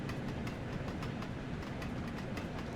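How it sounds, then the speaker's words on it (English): A steam train in Train Sim World 2 rolls through snow, struggling to stop, with a steady loud rumble and repeated rhythmic clickety-clack of wheels over rail joints throughout. "Man, this train does not want to stop."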